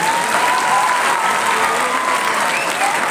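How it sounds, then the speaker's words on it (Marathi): An audience at a painting competition event applauds in a dense, continuous burst of clapping, loud and close, with a faint voice underneath. "टाळ्या वाजत राहिल्या पाहिजे।"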